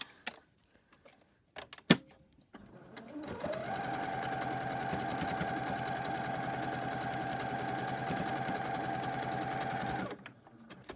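Sewing machine stitching fabric, a steady mechanical whir and rapid needle clatter running for about seven seconds after a few faint clicks, then stopping.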